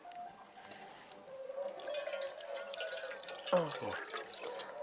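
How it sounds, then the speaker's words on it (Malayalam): Water runs from a household tap as someone washes their hands in a home kitchen, a soft, close trickle and splash with a brief louder splatter near the end. "കൈ കഴുകുക."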